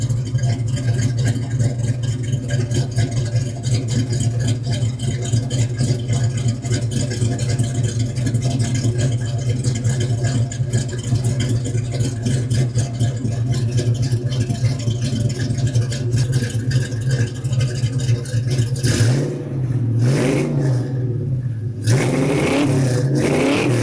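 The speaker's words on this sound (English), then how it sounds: "Fire it up, let you hear it." A 1993 Ford Mustang Cobra V8 runs close and loud at a steady, rough idle for most of the stretch, then is revved hard several times near the end, with no talking.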